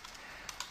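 A few quick computer keyboard keystrokes tap out a word, faint and close, three or four light clicks in under a second.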